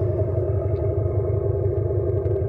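Abarth 500e electric hot hatch playing its artificial engine sound through external speakers, a loud, steady, throbbing petrol-style burble with a rhythmic low pulse, heard up close and alone.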